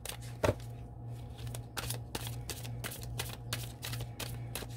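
Tarot cards being shuffled and drawn, a steady run of soft crisp riffles and flicks, close and quiet, with a few sharper snaps along the way.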